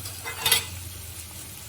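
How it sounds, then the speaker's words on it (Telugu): Sliced onions softening in a pan for a coconut capsicum fry, a soft sizzle with one brief stirring scrape near the start, then a low, steady hiss. "ఉల్లిపాయలు మగ్గింది"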